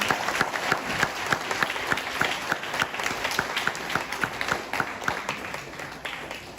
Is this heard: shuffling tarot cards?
no